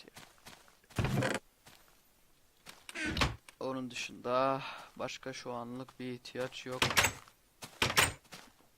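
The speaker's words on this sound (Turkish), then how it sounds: "Kapıyı kapat" A wooden door closing in the Minecraft video game, with several sharp knocks scattered through steady, close talking by a player.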